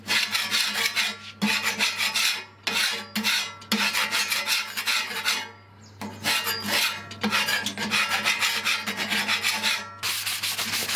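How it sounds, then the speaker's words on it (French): A metal scraper rasps rust off a rusty plancha griddle in steady, repeated strokes with brief pauses between passes, close and loud over a low constant hum. "On va commencer par gratter le tout en mettant ça à l'intérieur."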